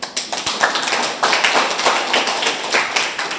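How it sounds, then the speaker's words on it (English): A small group of people clap at a meeting in Lagos, a close, brisk patter of overlapping hand claps with an uneven rhythm that holds steady for the whole few seconds, with no talking. "Please clap."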